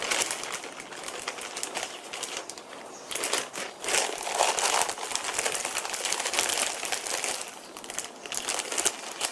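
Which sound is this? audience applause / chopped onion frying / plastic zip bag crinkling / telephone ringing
plastic zip bag crinkling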